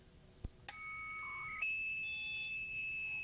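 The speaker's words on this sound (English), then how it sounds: "Each alarm sounds like a chirp" Short electronic chirps from an armed perimeter alarm system, a couple of sharp clicks then sustained steady tones that step up in pitch, heard alone against a quiet hiss.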